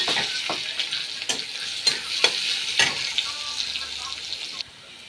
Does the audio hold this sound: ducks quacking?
no